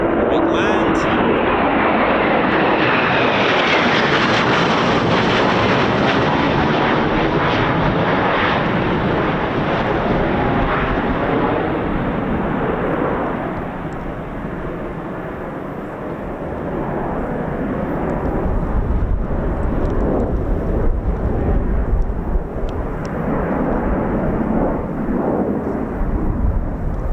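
A Eurofighter Typhoon FGR4 jet comes in to land at RAF Coningsby, a loud sustained roar that sweeps past with a falling whine and lingers as a broad rumble, heard nearby outdoors.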